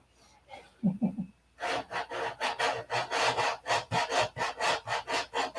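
Steady back-and-forth hand sanding on wooden fillets, about a dozen even rasping strokes close by, following a few brief soft knocks.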